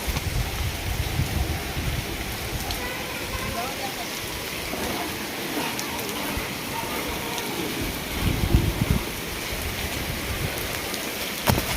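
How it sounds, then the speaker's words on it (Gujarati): Steady rain patters throughout as a continuous broadband hiss, with a brief louder rustle near the end. "બહુ ખાસ વરસાદ આવતો નથી ધીમો ધીમો આવે છે માપે માપે"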